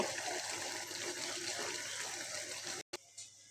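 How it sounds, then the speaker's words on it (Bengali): Broth is poured into a pan of hilsa fish and eggplant curry, giving a steady splashing, trickling stream that runs close and continuous before cutting off abruptly near the end. "দেখতে পাচ্ছ আমি এখানে ঝোল দিয়ে দিছি"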